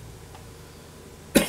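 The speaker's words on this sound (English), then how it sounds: "Who the hell coughs like that in a Let's Play video?" A single short, sharp cough bursts out near the end after a quiet stretch of faint background hiss.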